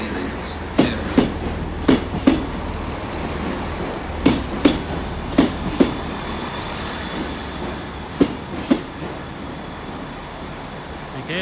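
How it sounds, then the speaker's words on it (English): A class 166 diesel train, unit 166-213, runs through Exeter St Davids station, where a points failure is disrupting services. It gives a steady low rumble with a regular clickety-clack of wheels over rail joints, heard close by. "there's the 166-213, which will work as service to Paignton"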